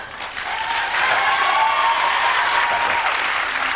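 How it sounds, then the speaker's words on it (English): A studio audience at a Simon Cowell appearance on Ryan Seacrest's On-Air radio show applauds in a steady, dense wash of clapping that swells slightly and holds for several seconds with no voices over it. "Just clap when I'm funny, actually, please."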